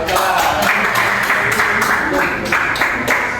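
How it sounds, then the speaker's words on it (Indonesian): Classroom applause from students after a group presentation, steady dense clapping filling the room with some chatter mixed in. "Beri tepuk tangan ya"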